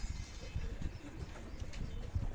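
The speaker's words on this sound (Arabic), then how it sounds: "ومعاهم بصوا الحمام الجديد بينزل من الهوا" Soft, repeated cooing from homing pigeons landing nearby, low throaty coos in a loose rhythm over faint background noise.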